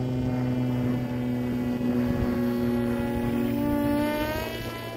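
Electric motor and propeller of an RC autogyro in flight on its maiden outing; a steady, loud whining drone with a slight shift in pitch, fading a little toward the end, no talking.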